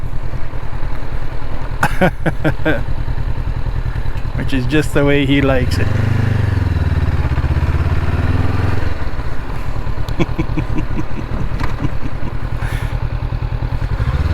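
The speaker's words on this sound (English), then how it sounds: "His bike's pretty loud." A motorcycle engine rumbles loud and close, steady throughout with a brief rev, while someone talks over it.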